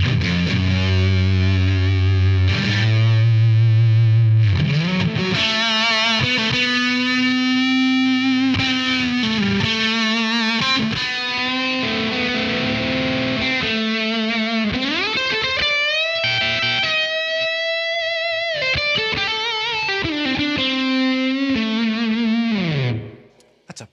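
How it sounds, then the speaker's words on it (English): Electric guitar played through the fuzz setting of a Blackstar AMPED floorboard amp, giving a thick, heavily distorted tone; loud riffs and sustained notes alone, ending in a quick cutoff. "Pretty good sounding fuzz."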